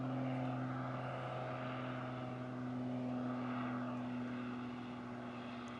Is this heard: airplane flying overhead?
yes